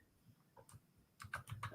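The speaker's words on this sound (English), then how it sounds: "I'm typing your channel name in" Someone types in a channel name with soft, scattered key taps: a few isolated clicks, then a quicker cluster near the end, all quiet and close.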